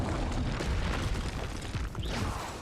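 A Confringo explosion spell goes off in Hogwarts Legacy, a dense, roaring blast that fills the whole clip with sustained rumbling and crackling, loud and close, with no talk over it.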